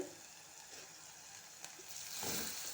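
Sliced potatoes fry in hot oil in a home kitchen, a soft, faint sizzle hissing steadily throughout, with a brief louder crackle and stir near the end.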